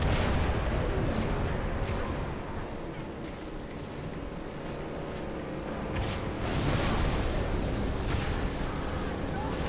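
Constant rumbling rocket blasts and gunfire in the Halo 3 PC port video game, a dense, unbroken wash of battle noise over an anti-air fight, with a voice talking over it.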